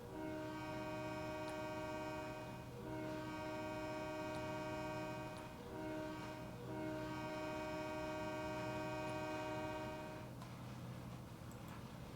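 Train horn in a railroad simulator game sounds in long steady blasts, loud and close, with short breaks between them over a constant rumble of rolling train noise.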